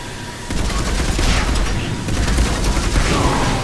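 Heavy gunfire in the video game Mass Effect 3 cracks out in a dense, loud, continuous barrage of overlapping shots, with a voice heard faintly underneath.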